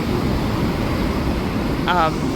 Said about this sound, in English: We've got some really good waves coming in.